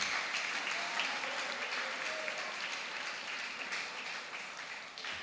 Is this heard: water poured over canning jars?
no